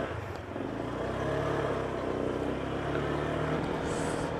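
A Honda Click 125 version 4 scooter rides along with a steady engine drone and road rumble, rising slightly after the first half second and holding even throughout.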